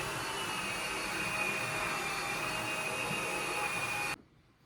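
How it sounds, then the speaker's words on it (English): A Proscenic WashVac F20 cordless wet-dry vacuum and mop running its disinfectant mode: a steady, fairly quiet whirring hum with a high whine that cuts off abruptly about four seconds in. "So when the disinfectant is ready, the vacuum will go ahead and start itself and disinfect your floor."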